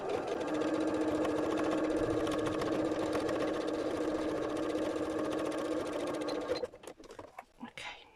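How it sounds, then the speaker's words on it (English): A sewing machine runs a continuous top stitch on a teapot cosy, with a steady, fast mechanical whir for about six seconds before it stops and leaves a few light handling clatters. "let's just do a quick top stitch, increase the stitch size a tad"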